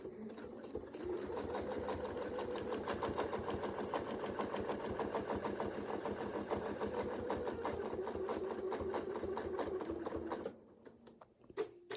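A sewing machine stitches a quilt along a Westalee circle ruler, its rapid, even needle hum running continuously for about ten seconds before cutting out to quiet handling sounds.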